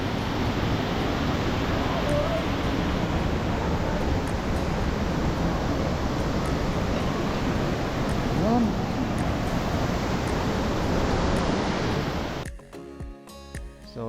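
Waterfall at a cold swimming spot near Pantukan, a steady dense roar of falling water that fills the scene continuously, close and loud, until it cuts off abruptly near the end.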